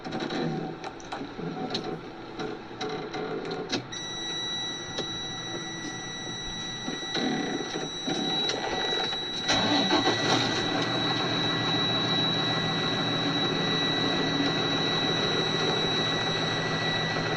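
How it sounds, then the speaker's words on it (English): A truck engine idles steadily during an air brake inspection, building air pressure with a continuous mechanical hum and a sustained high whine, growing slightly louder partway through; no talking. "Now I'm going to start my engine and build air pressure to maximum capacity."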